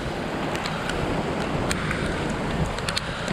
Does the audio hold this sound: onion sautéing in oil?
no